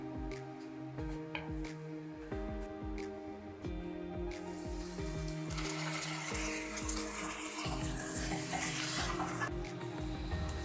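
Mixed vegetables with capsicum, cabbage and potatoes cooking covered over a low flame, a steady soft sizzle and bubbling hiss that stays even and continuous throughout, close by with no talking.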